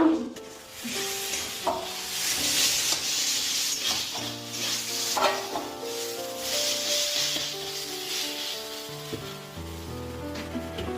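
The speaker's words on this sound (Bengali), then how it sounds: "দেখো এই যে লুচি ভাজা হচ্ছে" Luchi flatbread frying in hot oil in a home kitchen, a sustained loud bubbling sizzle with clinks and scrapes, while a steady tonal hum sits beneath it.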